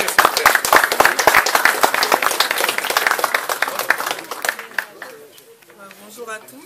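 An audience applauds at a book publisher's presentation, dense clapping filling the room for several seconds before thinning out and fading, with a voice coming in near the end.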